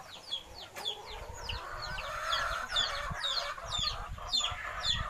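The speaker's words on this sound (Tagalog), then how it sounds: "yung manok namin sa bukid" Chickens on a farm clucking and squawking repeatedly, several birds close by with a rooster crowing, over a low background rumble of outdoor noise.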